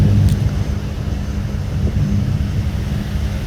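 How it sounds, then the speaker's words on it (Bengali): A Thai Airways Airbus A330 takes off, heard as a steady, distant low roar of jet engines with a broad rumble, lasting throughout without any voices. "এয়ারবাস A330 মডেলের একটি এয়ারবাস, থাই এয়ারবাস, সেটি এখন টেক অফ করতে দেখতে থাকুন।"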